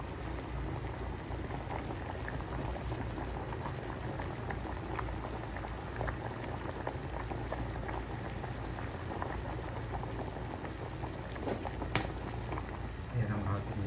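Beef shank stew bubbling steadily at a rolling boil in a large pot, a dense continuous burble of liquid with faint patter throughout and a brief clink near the end.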